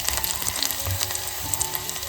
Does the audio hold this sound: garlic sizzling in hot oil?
yes